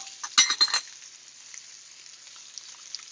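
King oyster mushrooms frying in a pan and basted with butter, a soft steady sizzle with a brief cluster of clinks and stirring scrapes near the start, then quieter crackling.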